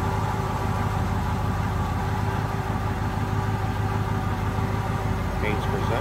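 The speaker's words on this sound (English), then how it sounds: "smooth running engine, sounds good" A 1965 Ford Galaxie 500 XL convertible engine idles smoothly and steadily at close range, a constant low rumble with an even tone throughout and no change in pace.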